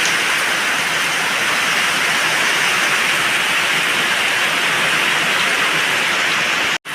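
Torrential rain from Typhoon Carina pours down in a dense, steady roar that fills the clip from start to end, loud and close, before cutting off abruptly at the very end.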